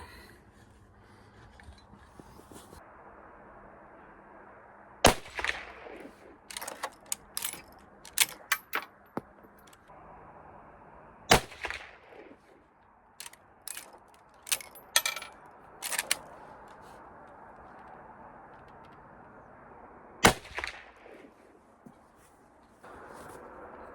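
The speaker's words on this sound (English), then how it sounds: "So we'll take a few shots." A Winchester Model 94 rifle chambered in .25-35, over a century old, is fired three times, with sharp, loud reports spaced several seconds apart and smaller metallic clicks and handling noises between them.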